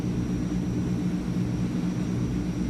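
Transall C160 aircraft engines drone in Microsoft Flight Simulator, a steady, even turboprop hum that holds constant throughout with no talk.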